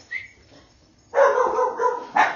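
Dogs bark and yelp nearby in a few loud, rough bursts, separated by short pauses and a faint whine.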